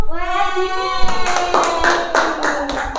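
Classroom clapping for the winners of a ranking, several hands clapping in uneven bursts that start after a second, with a sustained tonal voice or note carrying through beneath.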